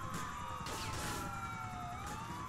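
Police car siren in Grand Theft Auto IV, a steady wailing tone that sweeps up and down throughout, moderately faint beneath continuous game noise.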